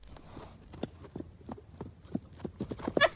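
A horse steps about beside a man lying on the ground pretending to be dead, its hooves making a series of soft, irregular clip-clop thuds close by, picking up pace toward the end.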